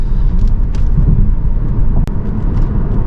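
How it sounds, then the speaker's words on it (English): Citroen e-C3 electric car on the move, giving a steady low road rumble and motor hum with tyre noise, constant throughout with one brief dip near the end, no talking. "So I presume that's actually the electric motor sound rather than anything being pumped through the speakers"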